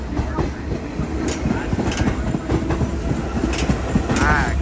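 An R46 R subway train pulls out of Sheepshead Bay station with a steady loud rumble, rhythmic clickety-clack of wheels over rail joints, and a brief squeal of wheels near the end.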